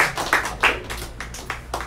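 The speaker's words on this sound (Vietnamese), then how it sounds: "Xin một tràng pháo tay cho anh Andrew Nguyễn." Light, scattered clapping from an audience at a Vietnamese-American community event welcoming Andrew Nguyễn, a handful of soft, uneven claps over a quiet room that fade within two seconds.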